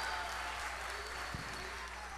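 Applause rises from the audience at a live adult comedy ventriloquist show in Mexico, a steady wash of clapping under a loud ambient hum.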